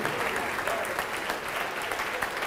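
An audience in a church service breaks into sustained, steady applause, a dense wash of clapping that carries on evenly throughout.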